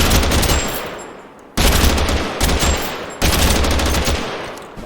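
Automatic assault-rifle fire in TABG (Totally Accurate Battlegrounds), an M16-like gun, in three rapid sustained bursts, loud and close with brief gaps, no talking.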